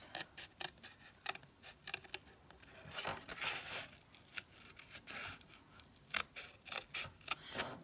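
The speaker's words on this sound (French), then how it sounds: "je vais découper au ras de l'embossage." Scissors snipping around embossed paper card for a butterfly card, with sharp, close, irregular cuts spread through the clip, quiet paper rustling between them, and no talking.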